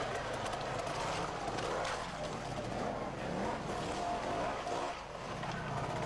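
A Spanish-built 320 Merlin trials motorcycle at a 1985 trials event in England, its engine droning faintly at a distance with gentle swells in revs, steady throughout.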